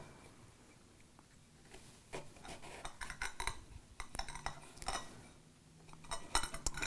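A knife works into a brown coconut, producing close, scattered scraping and hard clicking taps in uneven bursts that grow busier toward the end.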